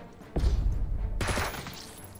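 Retaliation gunfire from the Jagged Alliance 3 video game: a dense burst of automatic fire starts abruptly, then a second sharper volley of shots follows over a low rumbling backdrop, loud and close.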